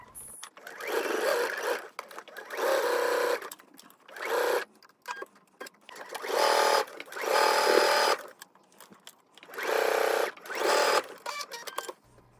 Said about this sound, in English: I start sewing those together